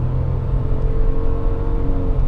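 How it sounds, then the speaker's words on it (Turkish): A Renault Taliant 1.0 turbo with X-tronic automatic, about 90 hp and 1100 kg, pulls away under full throttle, its engine droning steadily with a low rumble from inside the cabin and no talk. "Bak şu an köklüyorum."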